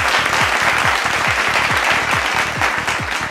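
A crowd claps loudly and steadily at a Telugu movie audio launch as a guest is welcomed onto the stage, with continuous dense applause and a thumping low beat underneath throughout.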